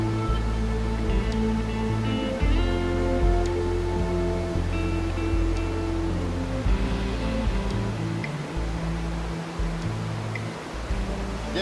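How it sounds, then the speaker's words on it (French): Roaring rapids and waterfalls of Khone Falls on the Mekong River form a loud, dense, continuous rush of churning water, steady throughout with heavy low rumble and no breaks. "le fracas des eaux"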